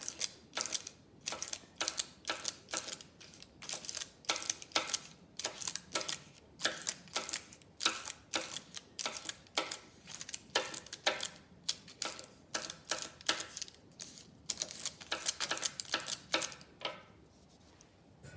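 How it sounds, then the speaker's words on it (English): Wax crayon rubbed back and forth across a paper case to add texture to craft owl eyes, giving a close, steady series of dry scratchy strokes in a quick repeating rhythm that continues for the whole stretch with no talking. "Now we can get our wax crayon and add some texture onto the owl eyes"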